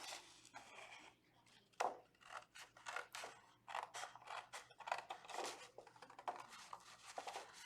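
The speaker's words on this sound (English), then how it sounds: "we are going to cut this ghost out from our white paper" Scissors cut a ghost shape out of white paper, with quiet, close snips and crisp slicing strokes that come in uneven bursts, along with light paper rustling.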